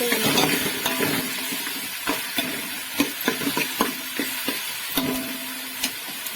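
Ginger frying in a pan for chicken biryani, a constant bright sizzle with repeated clicks and taps of a spoon stirring, close and continuous.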